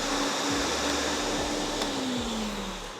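An industrial vacuum serving a shot blaster for line marking work is switched on, giving a steady loud broadband whoosh with a low hum that settles and rises slightly in pitch over a few seconds, with no talking.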